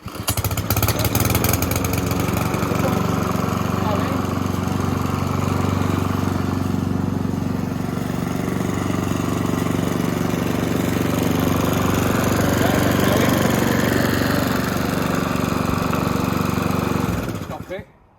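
A Mountfield petrol lawn mower, just fixed for a hot-restart fault, fires up with rapid sputtering pulses and then runs at a loud, steady drone close by for the whole stretch, cutting off at the end.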